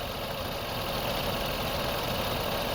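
A car engine idles roughly with its oxygen sensor disconnected, a steady, close, low-pitched rumble with an uneven shaking pulse that runs unbroken, with no talking.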